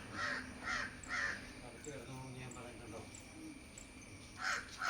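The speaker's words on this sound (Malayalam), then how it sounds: "കാക്കയൊക്കെ വന്നിരുന്ന് കരയുന്നുണ്ട്." Crows caw after rain in a series of harsh, nasal calls, some close and some farther off, with faint voices murmuring underneath.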